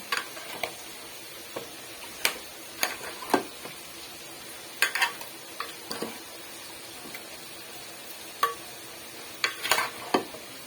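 Chicken is mixed with turmeric and chili powder in a pan for a yogurt chicken dish, producing faint, scattered scraping and clicking strokes with quiet gaps between them and no talking.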